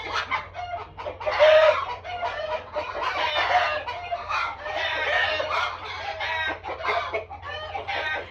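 A flock of about forty chickens, eleven of them roosters, fills the air with a dense chorus of clucking hens and crowing roosters, loud and close and continuous. A faint voice may sit underneath.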